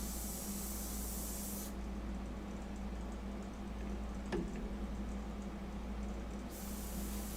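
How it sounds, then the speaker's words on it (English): Airbrush spraying India ink for a fine art portrait, a soft steady hiss of air running continuously at close range, briefly cutting off with a small tick near the middle. "I was doing all this with the airbrush that I'm shipping out to a customer."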